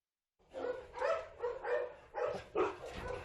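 A dog barks at the SPA animal shelter in Sarreguemines, giving a run of about six close, moderately loud barks and yelps in an uneven rhythm after a brief silence.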